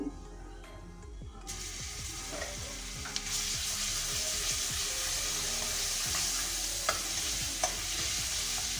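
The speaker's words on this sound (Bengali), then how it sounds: "এবার এর মধ্যে দিয়ে দেব আমি জিরে ফোড়ন, সামান্য জিরে ফোড়ন দেব, আর দিয়ে দেব অল্প একটু রসুন।" Cumin seeds and a little garlic fry in hot oil, giving a continuous loud sizzle that starts abruptly and carries on with spatters and crackles, alongside faint stirring throughout.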